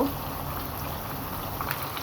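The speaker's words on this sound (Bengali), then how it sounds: "এখন আমি এই পর্যায়ে চিকেনগুলোকে একটু নেড়ে চেড়ে উল্টে দিব" Pieces of broiler chicken frying in oil, giving a continuous, even, bubbling sizzle that stays steady throughout.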